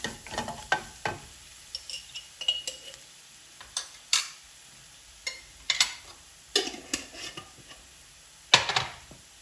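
Dried prawns stir-fried in a pan with crushed chilli and turmeric, a spoon or spatula scraping and tossing them in repeated clattering strokes over a soft sizzle, close and fairly quiet, with no talking.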